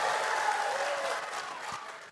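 Applause from the audience at a public debate between election candidates, a brief burst of dense clapping that tapers off over about two seconds.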